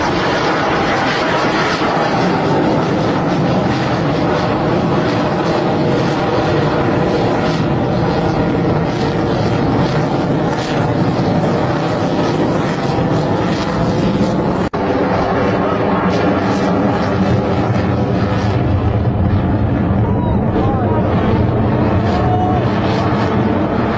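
A loud, continuous jet engine roar fills the whole stretch, a steady broadband rumble and hiss with no pauses.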